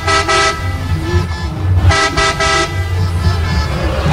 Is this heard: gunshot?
no